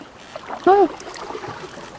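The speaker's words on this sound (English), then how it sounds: "It's an oar hitting the surface of water." A single soft splash of an oar dipping into water in the video game Spirit Hunter: NG, with a brief hollow tone, set against a low, murky ambient hum.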